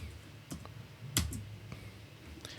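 Soft taps on an Android phone's on-screen keyboard, a handful of light, separate clicks spaced out over a quiet background.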